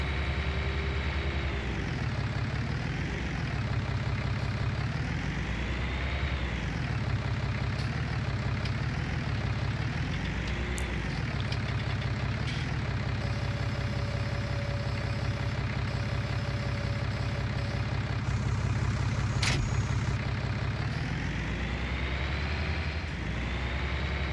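A tractor engine in Farming Simulator 19 runs steadily throughout, a deep idling drone with slow rises and falls in pitch as it works in a field. It stays loud and continuous, with no voices.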